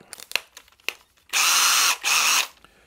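A combi drill in hammer action with a masonry bit: a few light clicks and handling knocks, then two loud, close whirring bursts of about half a second each, separated by a short pause.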